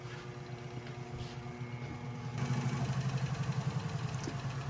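1948 Keller Super Chief model engine being spun on a machining setup, a faint low whirring hum that steps up louder partway through into a rapid pulsing drone, no talk.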